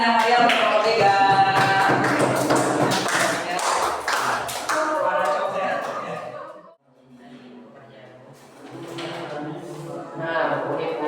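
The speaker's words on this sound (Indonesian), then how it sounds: "Beri tepuk tangan yang meriah untuk kelompok tiga." A classroom group at a school lesson is applauded: dense, close clapping with voices mixed in fades after about six seconds into softer chatter and scattered claps.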